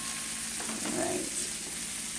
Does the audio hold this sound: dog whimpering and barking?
no